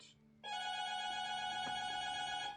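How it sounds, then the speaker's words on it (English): An electronic doorbell at a home at night rings with one sustained bright chime that starts abruptly and holds for about two seconds, heard alone in a quiet room. "Who is ringing my doorbell right now?"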